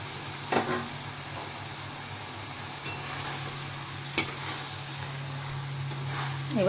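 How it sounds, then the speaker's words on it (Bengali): Fried okra goes into a sizzling spice mix in a pan, giving a steady low sizzle with a few sharp clinks and scrapes of stirring, fairly faint overall. "এবার আমি দিয়ে দেব ভেজে রাখা ঢেঁড়স"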